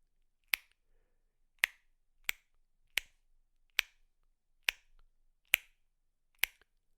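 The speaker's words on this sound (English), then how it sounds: "the alveolar click. The alveolar click is created more at the back of your mouth" Eight sharp, dry alveolar tongue clicks made toward the back of the mouth for echolocation, evenly spaced about a second apart, crisp and close with silence between them.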